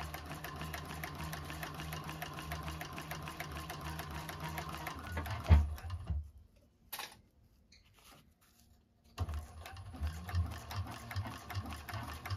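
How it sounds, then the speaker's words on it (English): A 1341 cylinder arm sewing machine runs a steady basting stitch across the top of a fabric bag, a continuous mechanical whir that pauses briefly near the middle, then resumes close up with no talk. "I'm just going to do a basting stitch across the top"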